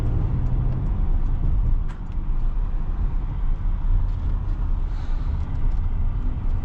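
A 2022 Porsche Cayenne S Coupe on the road, heard from inside as a steady, low engine and road rumble with tyre noise, continuous and fairly loud, with no talk.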